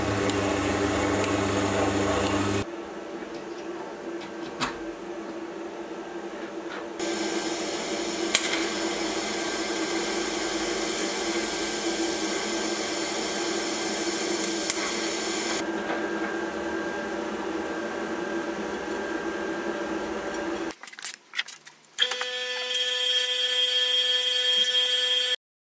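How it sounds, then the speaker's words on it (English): TIG welding a threaded part straight onto a homemade steel torch stand, a steady buzzing electric hum with a bright high whine that starts and stops in several separate passes, close and loud, with no talk. "I'll simply weld it directly."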